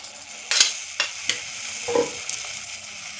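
Chili and turmeric are sautéed in oil for lemon pickle. A constant sizzle runs underneath several sharp, close scrapes and stirs of a spoon against the pan, with no talking.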